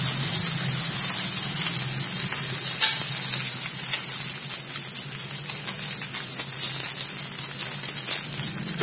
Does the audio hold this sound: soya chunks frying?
yes